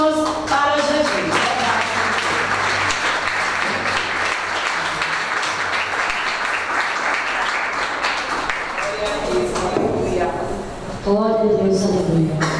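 A church congregation claps steadily and loudly for several seconds, a dense wash of hands with voices calling out over it at the start and again near the end.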